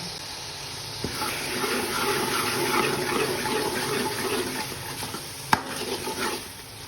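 Spinach and potatoes with salt and turmeric are stirred in a frying pan: a continuous soft sizzle and wet rustle, with a couple of sharp utensil knocks, close and steady.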